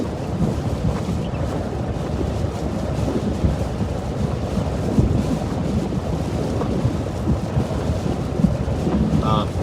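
Strong gusting wind during a December derecho storm in Iowa: a constant loud roar and buffeting against the microphone, with steady rumbling noise and no clear breaks, heard from inside or beside a vehicle.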